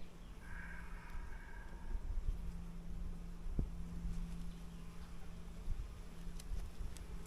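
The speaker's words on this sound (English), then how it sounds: "That's a lot of bees." Bees in a hive being opened for inspection buzz in a low, steady drone with faint higher whines, quiet and continuous throughout.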